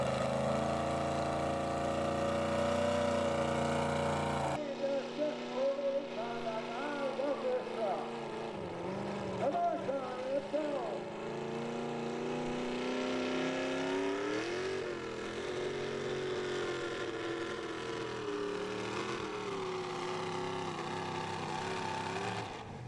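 A 1954 Chevy pulling truck roars down the track at a truck and tractor pull, its loud, sustained engine note rising and wavering steadily with some crowd or announcer voices mixed underneath.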